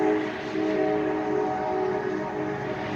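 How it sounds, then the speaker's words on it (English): A train passes somewhere in the background, a steady droning rumble with sustained tonal hum that holds at an even, moderately loud level throughout without a distinct horn blast. "there's always a daggone train in the background"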